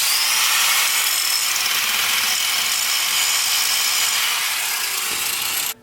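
An angle grinder cuts a Mustang S550 suspension part, giving a continuous loud, high-pitched abrasive whine that holds steady for several seconds, close by, then stops abruptly.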